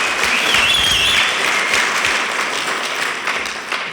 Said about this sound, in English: if you want to celebrate a bit, you can applaud now that we did this